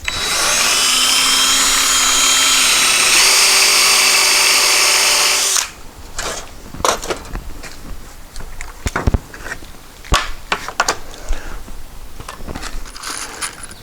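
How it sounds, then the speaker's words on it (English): A power drill with a pocket-screw jig bores a hole in wood on a rotten cargo trailer door, a loud steady whine for several seconds that stops abruptly, followed by scattered clicks and handling knocks. "Drill a hole."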